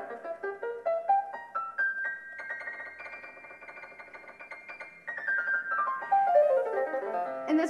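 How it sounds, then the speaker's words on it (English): Piano notes generated by the Piano Genie machine learning model, with eight buttons controlling a keyed piano, rising stepwise runs, a held chord, then a cascading descending line, clear and moderately quiet with no voices. "a piano genie basically has learned to, rather than using the 88 keys on a piano, just use 8"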